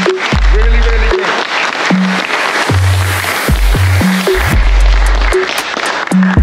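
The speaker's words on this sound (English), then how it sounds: "I want to give everybody a round of applause." Applause at an awards announcement for best illumination runs steadily throughout, mixed with loud tonal music and booming bass hits that partly mask the clapping.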